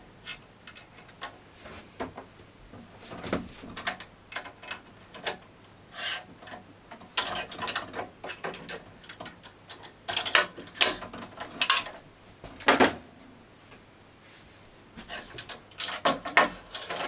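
Handlebar stem bolts are fitted on a Wattbike Atom exercise bike, with a close run of metallic ratcheting clicks, scrapes and taps coming in irregular bursts.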